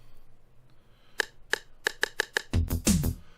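Six sharp drum-style count-in ticks before a song, evenly spaced and clicky, followed by the dense full mix kicking in at the end; fairly close and clear.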